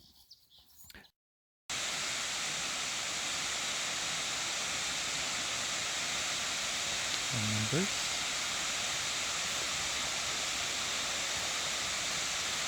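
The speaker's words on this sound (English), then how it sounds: "Another one of the many waterfalls up in this area." A waterfall in upstate New York produces a steady, broad rush of falling water that fills the scene after a brief muffled opening with a spoken word; a short bird call cuts through midway.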